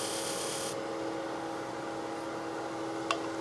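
A skew chisel cuts detail into spinning figured maple on a lathe, heard as a brief scraping burst followed by a steady motor hum with a small tick near the end.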